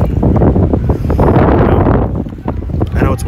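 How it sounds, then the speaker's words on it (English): Strong wind buffets the microphone in loud, rumbling gusts throughout at Conference House Park, with a voice faintly audible beneath the roar. "I know it's windy."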